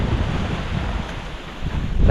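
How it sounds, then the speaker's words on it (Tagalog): Strong northeast monsoon wind at a coastal Philippine yard with seawater nearby, a loud constant roaring buffet of gusts battering the microphone, mixed with a wash of surf, rising again at the end. "Lakas ng amihan."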